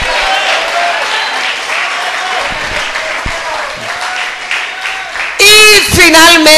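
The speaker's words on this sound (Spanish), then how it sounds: "vamos a darle un aplauso bueno al Señor" Applause from a church congregation fills an evangelical service, sustained clapping that carries on until a preacher's loud amplified voice cuts in near the end.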